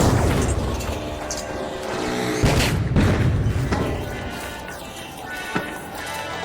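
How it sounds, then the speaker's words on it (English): A grenade launched and bursting in the game The Finals, booming thuds and crashes amid busy combat noise, with a sharp impact near the middle and mechanical clatter throughout. "Setting a mine. Firing grenade."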